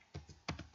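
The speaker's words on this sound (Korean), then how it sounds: "숫자를 입력할 때는 이 키보드 오른쪽에 있는 숫자 키를 이용하고 있습니다" Number keys on the right-hand numeric keypad of a computer keyboard being typed during spreadsheet data entry, giving a few quick, soft taps close by with no voices.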